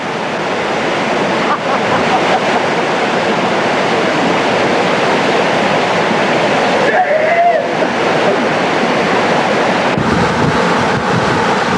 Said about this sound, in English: A must-stop for canoeists is Smith Falls, the highest falls in Nebraska.